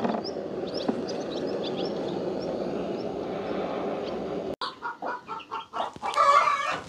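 A hen tending her few-days-old chicks on a cold day gives soft, close clucks, quiet at first over faint background noise and then a run of louder, choppy clucking toward the end.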